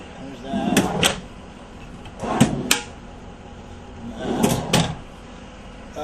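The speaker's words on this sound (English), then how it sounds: "there is this cabinet here that's got drawers" Drawers in a cabinet inside a 2007 Road Rescue ambulance are pulled open and pushed shut three times, each as a close pair of sharp wooden-metal clunks and slides, with light room noise between.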